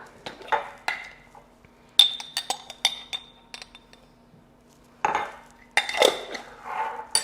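Kale salad being tossed with Cajun seasoning in a bowl, giving irregular bursts of clinking and scraping from a utensil against the bowl, separated by short quiet gaps.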